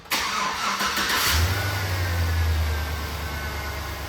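A 2005 Chevrolet Silverado Z71 pickup with a 5.3 Vortec V8 cranks briefly, catches, and settles into a loud, steady rumble with a short rev, heard close up with no talking.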